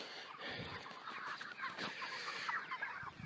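Broiler chickens in farm pens cluck and murmur softly in a faint flock chorus, several overlapping calls with no talking.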